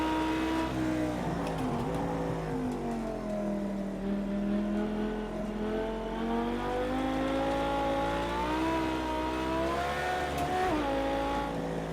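In Project CARS 2, a Porsche road car from the Porsche Legends DLC accelerates hard uphill past 190. Its engine note climbs steadily in a loud, continuous roar with no talking.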